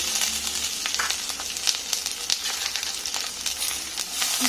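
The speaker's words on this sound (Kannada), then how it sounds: "ಮಿಕ್ಸನ್ನು ಮೊದಲು ಬಾಡಿಸ್ಕೊಳ್ಬೇಕು ಈ ರೀತಿ ಸ್ವಲ್ಪ ಬಾಡಿದ ನಂತರ ಇದನ್ನು ಈಗ ತೆಗಿಬೇಕು" Garlic, ginger and coconut mixture sautéing in a pan for egg chicken masala, a steady close sizzle and fry with faint crackles and occasional stirring scrapes, no voices.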